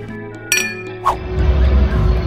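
Glasses clink together in a toast at night on a busy Ho Chi Minh City walking street, two bright chimes about half a second apart, followed by swelling crowd and street noise.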